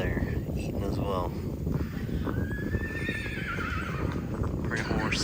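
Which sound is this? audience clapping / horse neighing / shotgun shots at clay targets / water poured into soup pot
horse neighing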